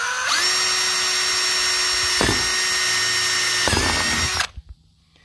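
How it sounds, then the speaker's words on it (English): A power drill whines at high speed, pausing briefly twice as it bites in, then winds down and stops near the end. "then I'm going to drill it in from this side right here"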